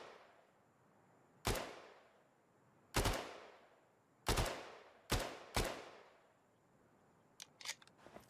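Single gunshots from a WWII-era rifle in the shooter game Battalion 1944, five sharp reports spaced a second or so apart with short reverberant tails, followed by quieter mechanical clicks of handling.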